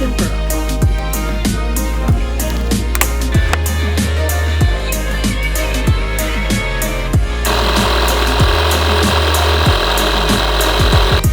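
A power tool, likely an impact wrench, works on a car wheel during a tire removal, giving repeated sharp buzzing bursts with short gaps, loud and close, turning into a harsher continuous grinding near the end.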